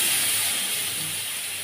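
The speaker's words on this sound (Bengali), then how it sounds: "তেলটা একটু গরম হয়ে আসলে এবার এর মধ্যে আমি পেঁপেগুলোকে দিয়ে দিচ্ছি।" Papaya pieces hit hot white cooking oil in a wok for a papaya and mung dal curry, giving a steady, fairly loud broadband sizzle that eases slightly as it goes on, with no talking.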